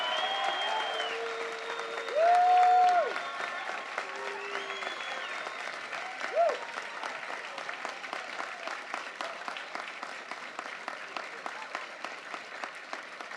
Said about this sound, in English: How about a great round of applause for our graduates?